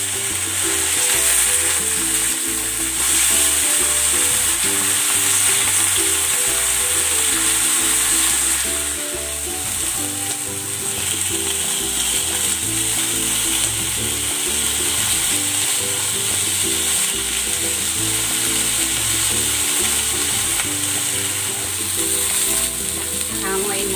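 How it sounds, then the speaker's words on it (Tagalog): Chicken pan-fries in oil with a loud, constant, dense sizzle and crackle, close up and unbroken throughout, with occasional light clinks and no talking. "Ipan-fry ko muna itong chicken."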